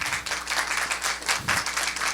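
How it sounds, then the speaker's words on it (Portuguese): Audience applause for the UESB team at a science communication workshop, dense overlapping clapping from a crowd filling the whole moment at a steady level. "peço até uma salva de palmas"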